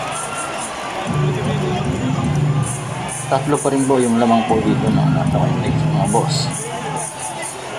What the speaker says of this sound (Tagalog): Grabe ang mga sigawan po dito ng mga kababayan natin, ng mga fans ng Ginebra